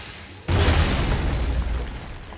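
A crystal blows up in God of War (2018) gameplay: one sudden loud burst at about half a second, followed by a sustained roaring, crackling rumble that slowly fades.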